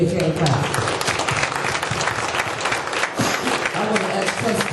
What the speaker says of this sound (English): Give our residents a big hand clap.